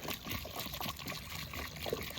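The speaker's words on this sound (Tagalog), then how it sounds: "At saka lagyan natin ng tubig, marami. Para mag-settle yung lupa." Water poured generously onto freshly laid store-bought topsoil in a front-yard landscaping bed, a steady trickling, splashing pour running continuously and fairly close, with no talking.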